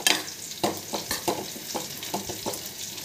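Drumstick and onion fry crackles steadily in a pan as a spatula stirs it in repeated close scraping strokes, sizzling throughout with no voices.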